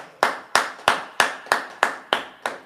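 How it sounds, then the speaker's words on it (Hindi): Hands clap eight times in a steady, even rhythm at the close of a church prayer, each clap sharp and close with a short decay and nothing else heard. "एक अच्छी ताली बजाकर"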